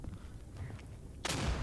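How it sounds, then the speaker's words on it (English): A grenade blast in the World War II shooter Day of Infamy: after a quiet stretch of low rumble, one sudden loud broadband burst lands near the end and rolls on as a heavy boom. "I threw a grenade at my own guy"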